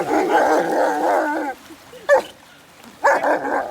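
A dog barks and whimpers in a rapid, excited burst, followed by a pause and a couple more short yips, fairly close, with faint background noise.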